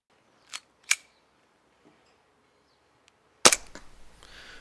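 GSO13 airsoft replica firing: two sharp cracks close together, then a pause with faint ticks, followed by a louder shot with a short rattling tail, no talking.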